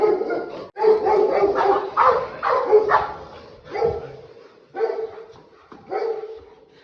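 A Rottweiler barks in several loud, close bursts with short gaps between them, and a few whimpering yips come in toward the end.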